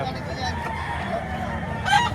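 A rooster crows briefly near the end amid the steady hum and chatter of a chicken market in Batangas, with people talking throughout.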